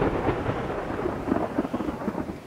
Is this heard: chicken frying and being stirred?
no